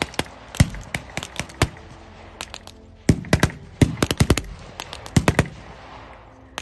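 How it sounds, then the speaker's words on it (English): Gunfire at a WWI battle reenactment: sharp cracking shots in scattered single reports and quick clustered volleys, loud and fairly close, with no talk. "The fire from the Germans in the village is withering."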